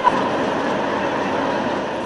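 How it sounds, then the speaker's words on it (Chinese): Out-of-service diesel-powered passenger trains are pressed back into use at Guangzhou railway station during a snowstorm, and one gives a continuous rumbling roar with steady rolling noise, close and fairly loud. "呢啲已经停用咗超过10年的柴油动力火车，在呢一刻大派用场"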